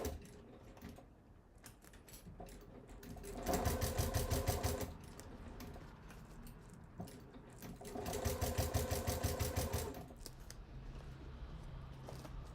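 A domestic sewing machine fitted with a size 16 needle stitches a fabric bag gusset, running in two steady rapid bursts of a few seconds each with quieter handling and fabric shuffling between them, close and clear.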